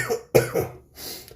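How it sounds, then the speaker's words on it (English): A man coughs in a short burst of three harsh coughs, close to the mic, followed by a softer breathy throat sound. "I'll probably be coughing multiple times"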